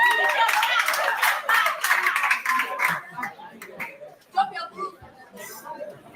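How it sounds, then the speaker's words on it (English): An audience claps for a few seconds at a live show, the applause loud and dense at first, then thinning out into scattered claps amid murmuring chatter and voices. "A round of applause."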